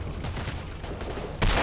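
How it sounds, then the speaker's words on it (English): Rocket fire and gunfire in a war video game, a dense, loud rattle of shots followed by a heavier blast near the end, with no voices. "that was a nice rocket shot"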